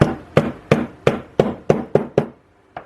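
A plastic hammer taps a valve part into a Webster engine, striking eight sharp, evenly spaced knocks at close range, the last one softer after a short pause.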